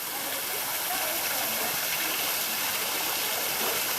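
Turtle Falls pouring into a pool at Faulconbridge in the Blue Mountains, a steady, dense hiss of falling water heard close and loud throughout without a break.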